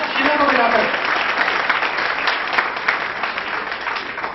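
Loud, sustained applause from a lecture audience fills the room as a dense, continuous wash of clapping, with a voice over the sound of the hands at the start.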